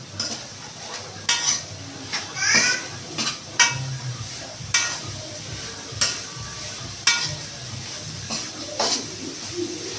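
Carrots, beans and soya being stir-fried in a pan, a steady sizzle under repeated scraping and clinking of a ladle against the metal, close and continuous with no talk.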